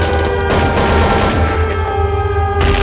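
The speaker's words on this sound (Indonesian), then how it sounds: "Terjadi baku tembak antara Belanda dan TKR." A burst of dense, continuous gunfire in a school stage performance of a battle between Dutch troops and TKR fighters at a 2020 school festival. The shots are loud and overlapping, with booming low rumble throughout.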